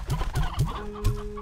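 Stony Hen chickens cluck in the video game Slime Rancher 2, four quick rhythmic clucks close by, with a faint tonal hum under the last ones and no talk.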